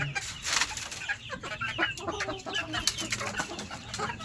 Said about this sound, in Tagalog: So, yan mga manok.